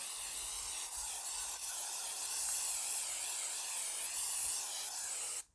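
A Würth silicone spray can sprays in one long continuous hiss, close and steady, then cuts off abruptly at the end.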